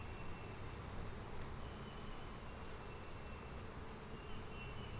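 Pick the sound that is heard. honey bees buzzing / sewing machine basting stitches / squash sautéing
honey bees buzzing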